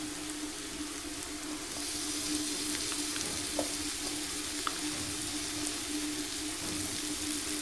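Ginger-garlic paste sizzles and fries in a pan just after green chillies, a steady close crackling hiss with faint popping and occasional stirring, no voices.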